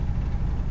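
1981 Jeep Wagoneer Limited with a 258 six-cylinder engine, recently fitted with a new fuel pump, idling roughly in a brief low rumbling burst with uneven, heavy pulses.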